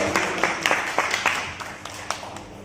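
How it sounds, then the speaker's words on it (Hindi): Scattered clapping from an audience at a BJP political meeting in Khera, UP: a thin, uneven patter of claps that slowly fades. A voice can be heard faintly in the background. "सबकी ताली होनी चाहिए।"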